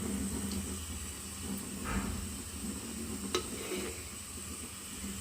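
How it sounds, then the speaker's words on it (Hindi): Ghee heats in a kadhai for frying peanuts, giving a faint, steady sizzle with a few light scrapes and clinks of stirring. "पहले डिब्बे में से मैं घी निकाल के उसमें कढ़ाई में डाल लेती हूँ मूंगफली तलने के लिए"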